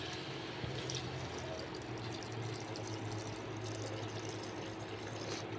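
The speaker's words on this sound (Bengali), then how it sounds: "এবার আমি এতে জল দিয়ে দিলাম" Water is poured into a pan of spiced potatoes, making a steady, continuous rushing pour with a soft bubbling sizzle underneath, moderately quiet and without speech.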